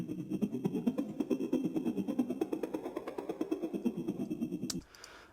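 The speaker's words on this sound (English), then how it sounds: "And then we have this percussion remake" A percussion remake loop with a bit crusher, from a production of a song, ticks along in quick, clicky, lo-fi hits over a murky low layer, fairly quiet and steady before stopping abruptly.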